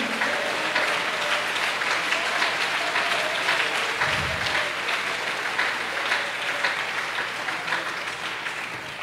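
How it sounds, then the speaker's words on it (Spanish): A church congregation applauds during a Spanish-language sermon, steady dense clapping that holds for about nine seconds at an even level with no voices over it. "si ese aplauso es para Él, de lo más fuerte"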